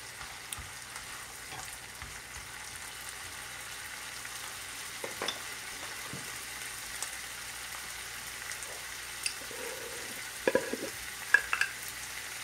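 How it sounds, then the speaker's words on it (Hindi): Butter tempering with dried curry leaves and cumin seeds for dhaba-style dal makhani sizzles softly and steadily in a pan, with a few brief clinks and crackles and no talking. "इसके हम बघार बना रहे हैं मक्खन के साथ"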